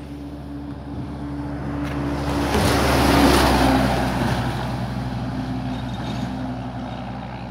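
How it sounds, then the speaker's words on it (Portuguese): A truck rumbles across a shaking bridge over the Rio do Peixe, its roar swelling to a peak and fading away, above a constant rush of river water. "Quando passa caminhão, balança a ponte."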